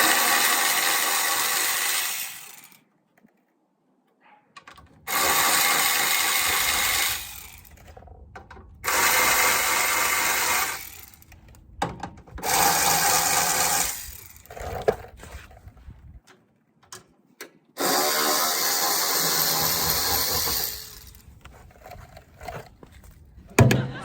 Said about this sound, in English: So I'm just using an 11mm socket.